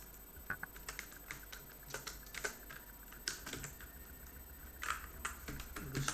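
Typing code for a note app on a computer keyboard: steady, close, fairly quiet key taps with uneven rhythm and occasional louder strokes, with no talk.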